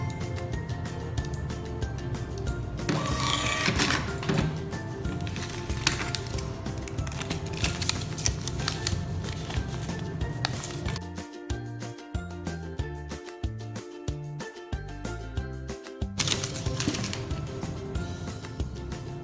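An Xprinter XP-N200H thermal receipt printer runs a long print job, giving a continuous close mechanical buzzing clatter with a quick burst of ticking stops near the end.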